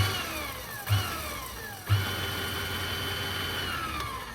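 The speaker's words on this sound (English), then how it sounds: "Motor's on." A Titan 440 paint sprayer motor, freshly reconnected and running with no pump attached, hums steadily and close, with two brief thumps near the start and then a continuous whine.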